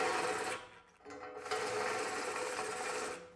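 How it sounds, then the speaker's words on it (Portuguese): A THE BLACK TOOLS TB12A cordless drill boring holes up to 10 mm on a weakening battery charge, a whirring motor whine that dips briefly midway then resumes steadily, close and alone. "Ela furou até 10 milímetros"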